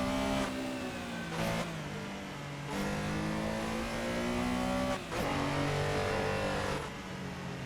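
A race car lapping the 7.2 km extended Nemuno Žiedas circuit in Lithuania in a racing video game, its engine roaring loud and steady with rising revs broken by sharp gear-change dips, alone without talk.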